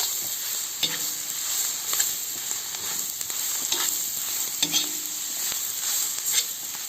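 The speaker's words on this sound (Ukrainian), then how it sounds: "До цибульки морквочку. Все добре треба перемішати." Onion and carrot frying in oil in a cauldron, stirred with a spoon that scrapes and knocks in uneven strokes over a continuous close sizzle, no talking.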